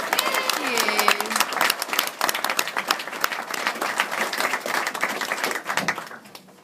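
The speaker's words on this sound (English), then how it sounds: "So a big round of applause for Lucy and Chris for the wonderful news." Wedding guests burst into a big round of applause during a reception speech, dense clapping close and loud, with a few whoops and crowd voices early on, tapering off near the end.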